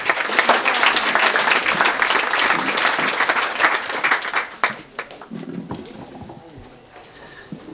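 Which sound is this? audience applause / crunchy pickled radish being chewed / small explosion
audience applause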